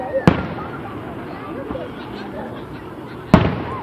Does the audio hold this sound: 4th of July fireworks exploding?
yes